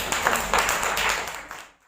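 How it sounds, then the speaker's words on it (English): Audience applause for a woman at a shoulder-pain healing session, a dense wash of clapping that holds steady for over a second and then fades out. "Give her an applause."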